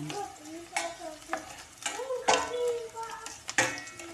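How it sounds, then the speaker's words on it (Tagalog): Garlic tossed into a pan of sautéing onions sizzles and fries steadily, with stirring scrapes and spatula knocks breaking through at intervals, while a voice talks briefly in the background. "Ilagay natin yung bawang guys."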